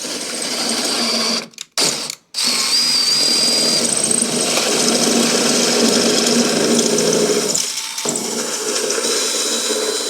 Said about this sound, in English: We'll go ahead and drill it out.